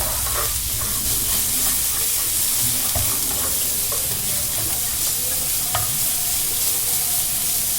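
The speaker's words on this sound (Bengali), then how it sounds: "এবারে দিয়ে দেবো এর মধ্যে কুচনো কাঁচা লঙ্কা লঙ্কাটা দিয়ে আবারও নাড়াচাড়া করে ভেজে নেব" Chopped green chillies stir-fried in a pan while making a pasta snack, a loud continuous hiss of hot oil broken by occasional scrapes and clinks of the spatula, no voices.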